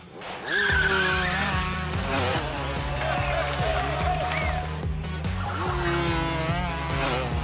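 Animated go-karts racing on a track, engines buzzing steadily throughout with repeated tire squeals and skids sliding up and down in pitch, loud and close, with cartoon voices briefly audible underneath.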